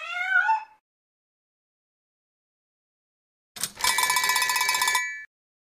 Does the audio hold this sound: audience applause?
no